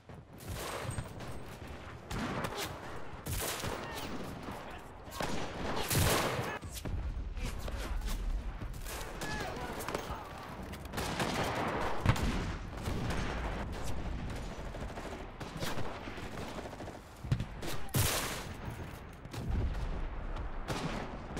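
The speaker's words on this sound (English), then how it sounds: "I don't know where that guy's shooting from" Dense gunfire and explosions in a World War II D-Day beach invasion in the shooter game Enlisted: overlapping rifle and machine-gun bursts with heavy booms rolling steadily throughout, loud and chaotic, with no talking.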